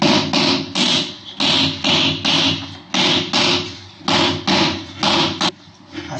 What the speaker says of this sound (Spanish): Y además podemos hacerlo con un martillo